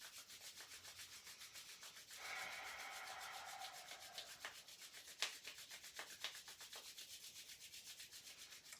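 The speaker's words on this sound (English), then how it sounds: "start to just create some heat and energy by rubbing them together nice and briskly" Two palms rub together briskly in a quiet room, giving a soft, steady rhythmic swishing close by, then slowing to a few separate strokes, with no talking.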